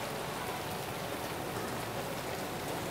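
Steady rainfall at the start of the rainy season, an even dense patter of drops with no break and no voices.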